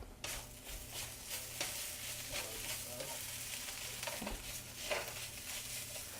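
Potatoes frying and browning in a pan for a frittata, a steady soft sizzle with occasional stirring scrapes, fairly quiet and uninterrupted by talk.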